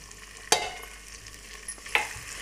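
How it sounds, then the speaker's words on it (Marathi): Spices stir-fried with potatoes and peanuts sizzle softly in a pan while two sharp scrapes of a spatula cut through, close up with no voices. "आणि छान परतवायचे ते मसाले."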